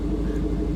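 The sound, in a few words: loud car engine noise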